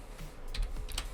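A few quick keystrokes on a computer keyboard, brief soft clicks close by with no talking.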